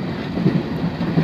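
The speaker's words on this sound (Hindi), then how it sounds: "ट्रेन में सवार हो गए हैं।" A freight train bound for Karachi rolls along, heard from aboard as a continuous low rumble with faint rhythmic clatter, steady and close for a short moment.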